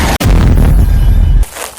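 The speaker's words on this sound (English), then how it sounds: "413 shots fired" Gunfire in police shooting footage: a very loud, close blast of shots that saturates, cuts off sharply, then a dense roaring burst runs about a second before dropping away.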